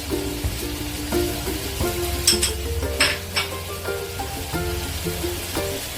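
A spice paste of mustard, poppy seed and peanuts with turmeric paste fries in a pan for bhindi masala, crackling and sizzling steadily at close range under light background music.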